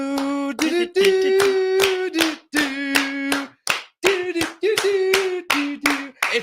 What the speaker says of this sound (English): It's the nonstop clapping